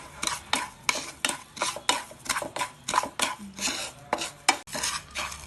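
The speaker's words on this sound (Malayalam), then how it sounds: "ഹൈ ഫ്ലെയിമിൽ വെച്ച് നല്ലപോലെ പഞ്ചസാരയെ ഫ്രൈ ചെയ്യുക." A spoon scrapes and stirs four tablespoons of sugar in a frying pan over high flame while it melts toward caramel, giving repeated close scraping strokes in a steady rhythm with a light sizzle beneath.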